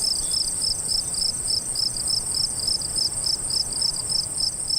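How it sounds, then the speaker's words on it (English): Crickets chirp in a steady, rapid pulsing rhythm throughout, loud and continuous with no other sounds, used as a comedic silence cue. "Cue crickets."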